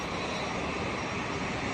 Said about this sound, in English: Sounds like a jet gearing up in the next hangar over to leave.